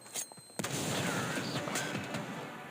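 Sustained bursts of rapid gunfire with a crashing blast near the start, dense and loud throughout, from combat in the mobile game Standoff 2.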